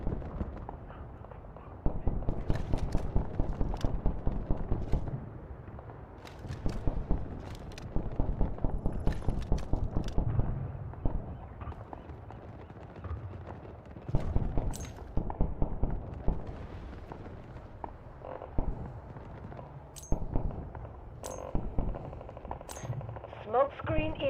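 Explosions and gunfire from an artillery barrage in the shooter game Delta Force. Repeated sharp blasts and rapid bursts of fire ring out in clusters over steady background rumble, loud and continuous.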